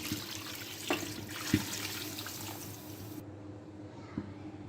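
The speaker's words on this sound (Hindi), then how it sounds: "इतना पानी डालना है" Water poured into a pot of mutton for a medium gravy in a Peshawari namkeen rosh, a steady broadband rush lasting about three seconds with a few soft knocks, then fading to a quiet hiss.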